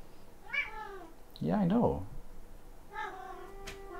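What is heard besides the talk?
cat meowing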